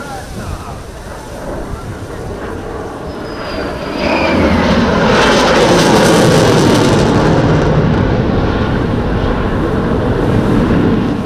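An F-16C from the Soloturk display team roars past at the Malta International Airshow while dropping flares. A distant rumble swells into a loud, sustained jet roar that holds steady and dominates everything else.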